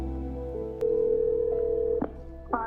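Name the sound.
cell phone call ringing to 911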